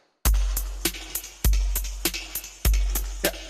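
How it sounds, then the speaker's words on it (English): A short electronic drum loop plays at a boosted, louder level, with a heavy low kick landing on three downbeats, sharp bright hits between them and a steady driving rhythm, with no voices. "So we got a little drum loop here"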